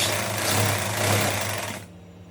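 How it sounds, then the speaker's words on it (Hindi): A sewing machine runs continuously while stitching a lehenga, with a close, steady mechanical whir and rapid needle chatter that stops near the end, leaving quiet room tone. "अब हम नीचे से इसमें सिलाई करेंगे"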